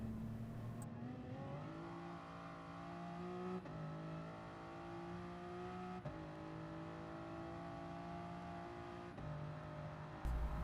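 Race car engine in Gran Turismo Sport on the Nürburgring 24h layout, holding a loud, steady harmonic drone with rising pitch sweeps and brief gear-shift dips as the car accelerates continuously, no talking.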